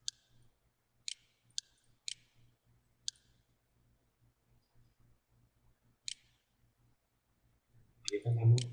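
A computer mouse clicks sharply and sparsely, several isolated clicks over quiet room tone, and a voice starts speaking at the end.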